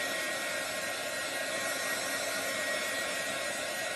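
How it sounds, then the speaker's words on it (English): A small heat gun dries chalk paste with a steady, even, fairly quiet blowing hiss that runs unbroken and alone throughout. "I am going to just use this little heat gun here to dry it up"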